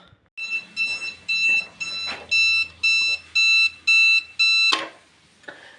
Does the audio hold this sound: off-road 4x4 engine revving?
no